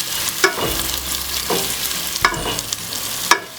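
Onions frying in a pan for a yam and vegetable dish, a steady sizzle broken by several sharp scrapes and clacks of a utensil stirring against the pan at irregular intervals, close and moderately loud, no voices.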